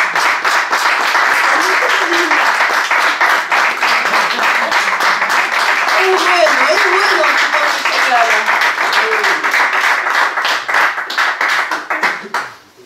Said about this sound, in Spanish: le pido por favor que le den un fuerte aplauso a Horacio Ramírez